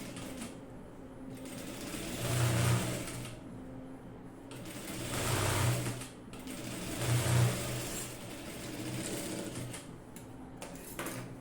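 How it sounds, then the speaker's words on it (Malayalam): A sewing machine stitches a saree edge folded over a quarter inch twice, running close by in several short bursts with brief pauses between them and no voices. "ഇതുപോലെ നല്ല നീറ്റായിട്ട് സ്റ്റിച്ച് ചെയ്ത് എടുക്കുക കേട്ടോ"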